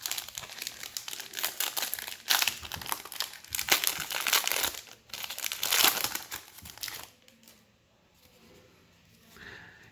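Foil wrapper of a 1993 Flair Ultra Series 2 baseball card pack crinkles and crackles close up as it is torn open, dense rustling bursts for several seconds before fading to near quiet.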